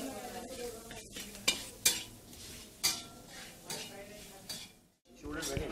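Spices being stirred into a vegetable filling for veg franky in a pan in a street-food kitchen, with repeated scraping and clinks of a spoon against metal over a soft sizzle, close and fairly loud.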